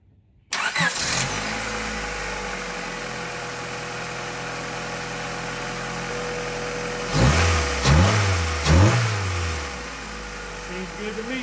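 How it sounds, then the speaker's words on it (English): A Honda car engine, just reassembled and awaiting its airbox, cranks and catches, settles into a steady close idle, then gets two or three quick revs before dropping back to idle. "So I'm gonna start the car and make sure everything is good before I put the airbox back on"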